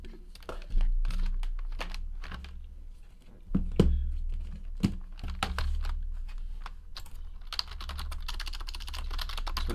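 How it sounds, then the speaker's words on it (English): Fingers tap rapidly on a computer keyboard, entering a string of card hits in irregular bursts of clicks with short pauses, close and fairly quiet, with faint crinkling alongside. "Let me flip over to random.org. And we'll type in all of the hits."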